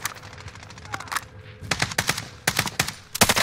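Automatic gunfire in Call of Duty Warzone, rapid bursts of sharp shots, some from the player's Bruen LMG, fired in clusters with brief pauses between them.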